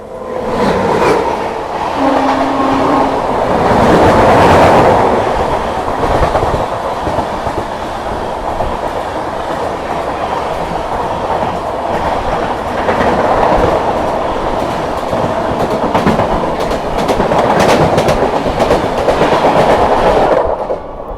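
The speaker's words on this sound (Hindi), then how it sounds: "यहाँ पर अपने से क्रॉस होने आते हुए दिल्ली कामाख्या ब्रह्मपुत्र मेल" The Delhi–Kamakhya Brahmaputra Mail passing on an Indian railway line, a loud sustained rumble of wagons with rhythmic clickety-clack of wheels over rail joints, swelling and easing as coaches roll by close to the listener.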